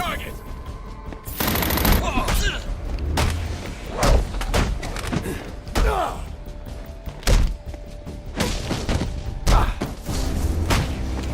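In the video game Batman: Arkham Origins, rapid gunfire bursts and heavy thuds crackle loudly in repeated volleys, with voices talking between and under the shots.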